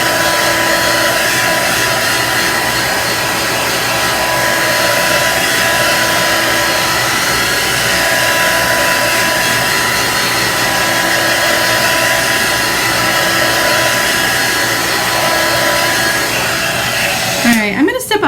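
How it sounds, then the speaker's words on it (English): A hair dryer runs steadily and loudly, blowing heat to dry chalk paint, its constant whir holding unbroken for most of the stretch before a brief clatter near the end. "you can use your hair dryer if you'd like to"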